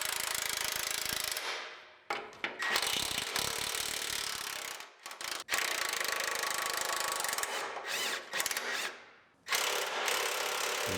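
A ratchet loosens the front leaf spring bolts on a 2015 Chevrolet Silverado LTZ truck frame. Long runs of fast, loud ratcheting come up close, broken by brief pauses and a few clunks, with no talking.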